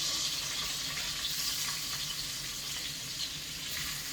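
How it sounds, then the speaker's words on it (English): Vegetables, starting with green peppers, sizzle and fry steadily in a pan over coals outdoors at a farm steak dinner, a continuous close hiss with faint stirring. "now it's time to start adding the vegetables into the saute"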